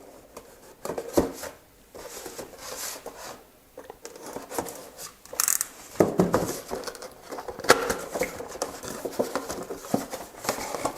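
Scissors or a blade slicing open the plastic packaging of a WizKids Icons of the Realms Boneyard miniatures booster, with close rubbing, crinkling and snipping sounds in irregular bursts, no talking.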